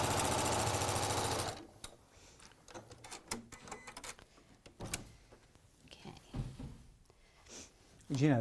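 A sewing machine runs in a fast, buzzing stitch burst for a second or so, then stops, leaving scattered clicks, handling noises and quiet movement.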